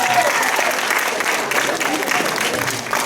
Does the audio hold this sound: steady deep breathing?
no